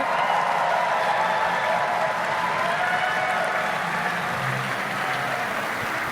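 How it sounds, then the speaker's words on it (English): Steady applause from a crowd at a cosplay contest, a dense wash of clapping that holds at an even level throughout without any speech. "So give them a round of applause."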